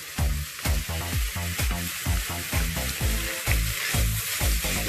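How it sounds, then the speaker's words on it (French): Minced meat sizzling in a pan with oil, salt, pepper and cumin, a loud, close hiss broken by rhythmic scraping stirs roughly twice a second, with no talking. "j'ai lancé ma viande hachée avec un peu d'huile, sel, poivre, cumin. Je les fais revenir un petit peu"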